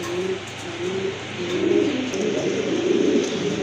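Pigeons coo continuously up close, low rolling calls overlapping one another in a loud, steady stretch with no talk.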